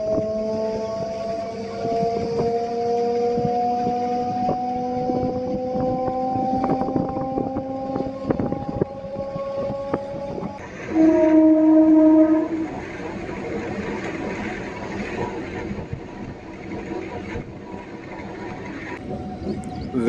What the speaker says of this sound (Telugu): బాక్రాపేట నుంచి మన ట్రైన్ బయలుదేరింది